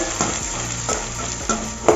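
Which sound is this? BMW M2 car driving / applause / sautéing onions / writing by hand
sautéing onions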